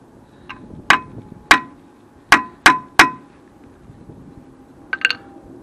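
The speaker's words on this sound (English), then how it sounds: "Needs hammering in just to get it clean so I don't strip it." Sharp metallic hammer strikes on a T40 Torx bit seated in the brake disc retaining bolt of a 2003 Renault Trafic 1.9 dCi, about six ringing clangs spaced irregularly, close and loud, with a final lighter double tap.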